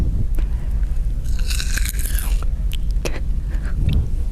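Someone bites into a crunchy, hard grape up close, producing a few crisp snapping crunches followed by quieter wet chewing.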